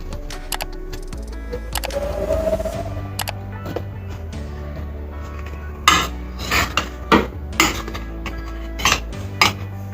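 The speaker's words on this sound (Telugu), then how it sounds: "ఇప్పుడు నైఫ్తో కట్ చేసుకుందాము." A knife cuts through a jaggery-sweetened wheat flour cake on a kitchen surface, giving a series of sharp metallic clinks and taps against a plate or pan, sparse early and then clustered, under a steady low hum.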